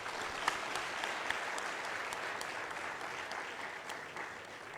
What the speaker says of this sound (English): Please invite you all to give a big round of applause to all those sponsors.